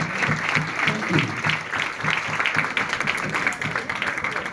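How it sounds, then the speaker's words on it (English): A crowd applauds steadily at a ReDI School demo day, dense clapping holding at an even level throughout, with no one speaking over it. "You can give applause."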